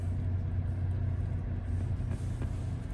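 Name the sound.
2019 Kia Carnival engine starting and idling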